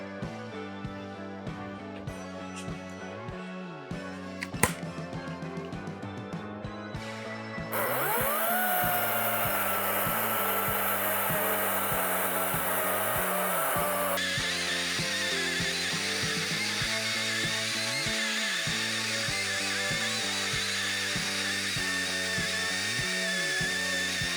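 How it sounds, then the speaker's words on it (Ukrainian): A Procraft PCA40/2 cordless saw runs steadily through a cut for over twenty seconds, a loud continuous motor whine with a rhythmic pulsing that grows harsher and brighter midway as the blade bites the material. "давайте зробимо ще один третій контрольний різ вже без порожнини"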